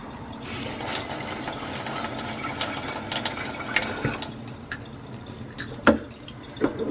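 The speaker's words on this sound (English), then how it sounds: "Then I take my seeds in my strainer, upside down over the jar," Tomato seeds rinsed in a strainer held over a jar, with running water splashing and dripping close by, uneven trickles and a few sharper drips.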